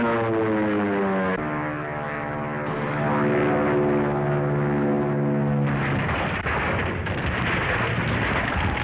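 A propeller airplane drones overhead with a loud, steady engine hum that rises and shifts pitch as it passes. The noise then roughens into a harsher roar near the end, with no voices.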